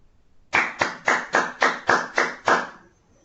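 Eight crisp, evenly spaced claps ring out in a steady rhythm during an online group session, close and loud with no voices over them, more like one person clapping than an audience.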